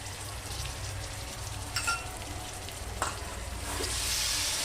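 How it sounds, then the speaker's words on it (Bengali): Boneless chicken sizzles in spice masala in a pan for a cabbage chicken curry, a steady close frying hiss with a couple of brief stirring scrapes and the sizzle swelling louder toward the end. "পুরো চিকেনটা এর মধ্যে দিয়ে দেবো মশলাটার মধ্যে।"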